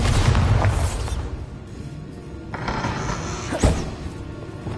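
Bombarda explosion spell cast in the Hogwarts Legacy video game, a heavy booming blast with deep low rumble at the start, followed by a second crackling burst and a sharp thud near the end, loud and close with no talking.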